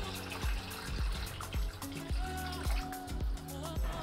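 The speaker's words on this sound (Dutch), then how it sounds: "We openen het deksel van de pomp en we gieten de pomp terug op met water." Water pours in repeated rhythmic glugs into the housing of a swimming pool pump with its lid opened, each pour a short splashing surge close by, about seven in a row.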